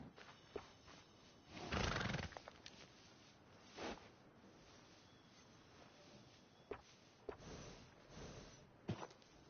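Horses at a stable in a video game give a loud whinny, then snorts, sniffs and scattered clip-clop hoof sounds, close by over a quiet background.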